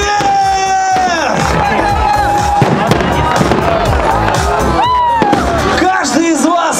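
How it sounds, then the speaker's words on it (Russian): A festive fireworks display celebrating a Volgograd shopping mall's first anniversary, with loud crackling bursts and rising whistles over a shouting, whooping crowd and continuous music. "Праздничный фейерверк!"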